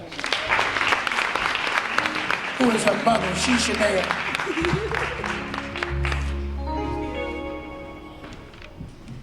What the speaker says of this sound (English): Ladies and gentlemen, please give a big round of applause for Rosalind Davis